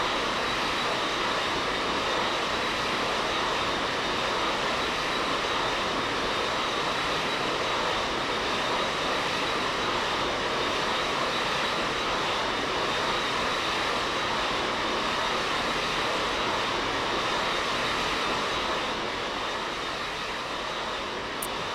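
Steady, loud Boeing 727 jet engine roar from outside the simulated aircraft in X-Plane 11, a continuous whine over broad rumble, unbroken and without talking.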